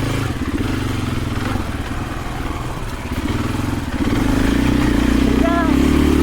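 A 2024 KTM 500 EXC-F dirt bike on Dunlop D606 tires labors up a hill, its engine droning loud and close and rising in pitch near the end, with a voice heard over the motor.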